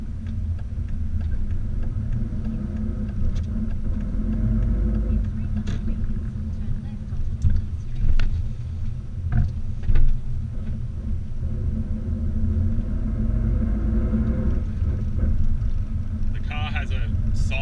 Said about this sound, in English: if you can hear noise now, it's the diff